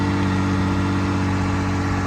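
A 1978 Porsche 911 SC Targa's air-cooled flat-six engine runs at a steady idle, a close, even, continuous drone with no voices over it.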